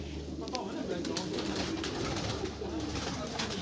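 Pigeons coo on a rooftop on a summer night, soft repeated calls close by under a dense, steady background wash.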